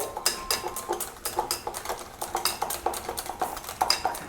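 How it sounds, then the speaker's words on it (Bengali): A spoon clinks and scrapes against a bowl while moong dal dhokla batter, with white oil and a little baking soda just added, is beaten vigorously; the close metallic taps come in a quick, uneven rhythm with no talking. "এবারে ভালো করে আবারও ঘেটে নিতে হবে"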